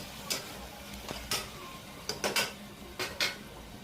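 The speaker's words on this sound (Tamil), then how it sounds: "இப்போ நல்லா வெங்காய தக்காளியோடு மிக்ஸ் பண்ணி விடுங்க." A utensil stirs onion, tomato and yogurt in a pan, giving sparse clinks and scrapes against the metal in irregular bursts, fairly close and moderately quiet, with no talking.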